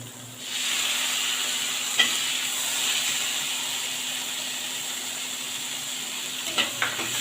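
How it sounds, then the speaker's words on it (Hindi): Tomatoes drop into a hot frying pan with a soft clatter, then a constant close sizzle and hiss runs under light stirring, with a few small utensil taps near the end. "और अब मैं इसमें टमाटर ऐड करूंगी।"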